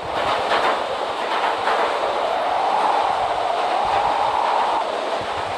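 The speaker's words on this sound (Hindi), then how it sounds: "हमारा ट्रेन एकदम मस्त चले जा रहा है" Steady rumble and clatter of a train rolling along rails in the Indian Travel Sim game on a run toward Arakkonam, loud and continuous with faint rhythmic wheel clicks and no talk.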